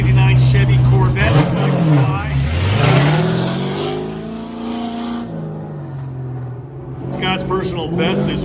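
A 1989 Chevy Corvette at a Goodguys drag race starting line, its engine revving loudly with rising and falling pitch sweeps, heard close under an announcer's voice.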